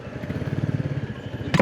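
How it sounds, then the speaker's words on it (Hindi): Royal Enfield Classic motorcycle engine running with a steady thumping rhythm, close and fairly loud, then a brief louder burst at the end as it cuts out. "ओहो गाड़ी बंद हो गई क्या बाइक की"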